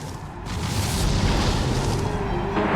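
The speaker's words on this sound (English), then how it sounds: "Explosion!" A Pokémon's Explosion move in Pokémon Colosseum erupts as a sustained, loud booming roar that fills the whole moment with dense rumbling noise.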